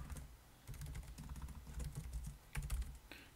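Rapid keystrokes clatter on a computer keyboard as a database user is created, close and crisp, in irregular bursts with brief pauses and no talk.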